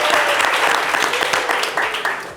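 Applause at a tribute honoring a late figure on a talk programme, a short burst of many hands clapping close and fairly loud, tapering slightly toward the end.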